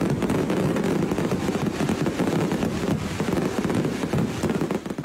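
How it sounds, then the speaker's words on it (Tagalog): Dense, continuous crackle and popping of a grand fireworks display at the Ati-Atihan festival in Kalibo, a steady wash of bursts heard from a distance with no clear individual bangs. "ang engranding fireworks display para sa Kalibo, Senyor Santo Niño at Ati-Atian Festival"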